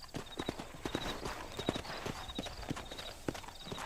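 Steady clip-clop of horse hooves trotting at an even rhythm in the video game Red Dead Redemption, moderately close, with a faint high tone ringing over a dull ambient background.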